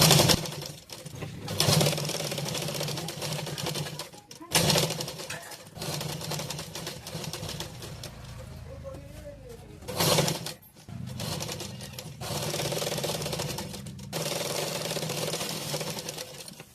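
A sewing machine stitches saree-coloured piping onto a blouse in several bursts of rapid mechanical whirring, stopping and restarting with brief pauses between runs, close and steady.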